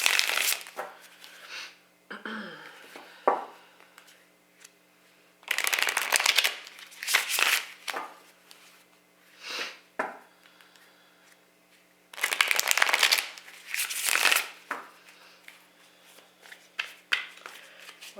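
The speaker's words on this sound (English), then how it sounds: "Let's get a few tarot cards to go with this." Tarot cards are shuffled by hand in several bursts of crisp riffling and rustling, separated by short quiet pauses, close to the microphone with no talking.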